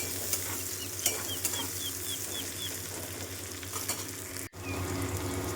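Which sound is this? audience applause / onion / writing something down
onion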